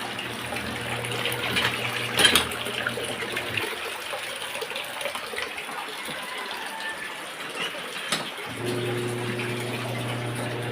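Water gushes steadily from a tap or pump, briefly cutting out for a few seconds before the flow resumes with a clatter.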